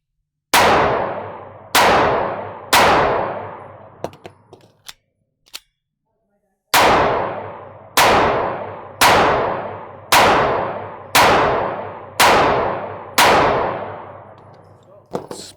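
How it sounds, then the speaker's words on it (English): An Honor Guard pistol fired one-handed with a deliberately limp wrist, loud sharp shots with ringing decays, three in quick succession, a pause, then a steady string of about eight more. "we're going to test cycling in one-handed shooting, just to make sure. I'm going to limp wrist a couple."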